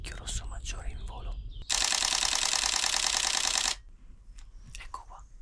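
A camera shutter firing a rapid continuous burst for about two seconds while photographing birds in woodland, loud and close, framed by quieter rustling and faint handling sounds before and after.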